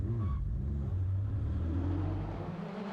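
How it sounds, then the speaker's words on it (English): A Ford Escort Mark II rally car launches off the line at a circuit rally, its engine rumbling and revving loud and close as the tyres smoke, fading slightly as it pulls away. "Smoking the tyres off the line was the Ford Escort Mark II of Mark Kelly and Neil Coleman"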